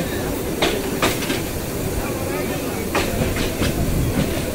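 A passenger train runs through heavy rain from Mymensingh toward Dhaka, giving a continuous rumbling roar with periodic clickety-clack wheel beats and occasional hissy bursts, heard up close and steady.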